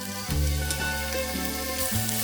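Carrots hit hot cooking oil in a pan for a stir-fry of vegetables and fish cakes, giving a loud, steady sizzle that runs throughout with a few stirring clatters.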